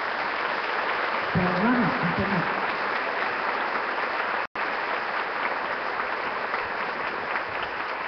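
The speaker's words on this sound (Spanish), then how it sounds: "Y ahora se aplauda cuando quiera." An audience at a faith gathering breaks into steady applause that carries on throughout, with a voice calling out briefly over the clapping near the start.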